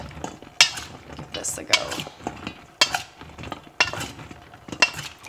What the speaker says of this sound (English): what the easiest way to toss peppers in oil is